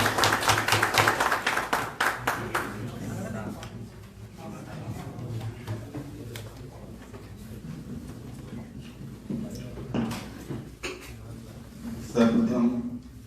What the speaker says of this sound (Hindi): सर ताली बजाकर सर का अभिनंदन करें